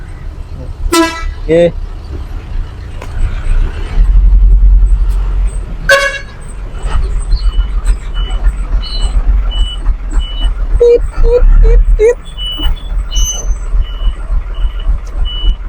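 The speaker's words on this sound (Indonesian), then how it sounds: "kebetulan ada truk proyek. PT Raja Agung." A construction project truck passing close by with a loud rumbling engine, sharp horn toots and beeps sounding over it, while people talk nearby.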